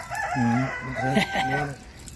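A rooster crows in a long drawn-out call with rising and falling harmonics, fairly close, after dark, with faint background noise.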